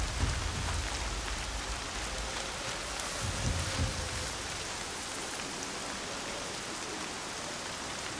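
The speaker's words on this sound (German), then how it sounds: "Jetzt regnet es und es ist dunkel." Steady rain in the video game Horizon Zero Dawn pours down in a continuous, even hiss, with no voices and no breaks.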